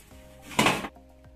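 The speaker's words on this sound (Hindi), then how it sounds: "इसको निकालते हैं ओवन से बाहर।" Pizza pulled from an oven, a brief metallic clatter and scrape of the tray or oven rack lasting under half a second, close and fairly quiet.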